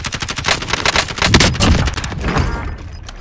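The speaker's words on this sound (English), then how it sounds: "I hear gunfire over here." Rapid automatic gunfire rattles through a shooter video game match, dense bursts of shots crackling close and loud for a few seconds before easing off slightly at the end.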